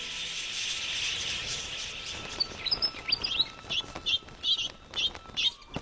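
A flock of over ten thousand wild budgerigars chirps at an Australian billabong, a dense distant twittering that breaks into sharper, closer bursts of calls in the second half, with no talking.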